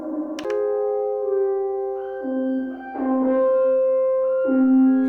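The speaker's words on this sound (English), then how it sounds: "This allows you to create sort of very long time stretches." A TastyChips GR-MEGA granular synth uses its phase vocoder to stretch a sound into long, sustained tones that hold and glide between pitches, smooth and layered, with no talking.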